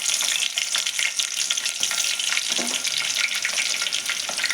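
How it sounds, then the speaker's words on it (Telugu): Onion pieces drop into hot oil for a tomato curry tempering and sizzle loudly and continuously, a close, crackling fry with no talk over it. "నేను కొద్దిగా ఉల్లిగడ్డ ముక్కలు వేస్తున్నాను."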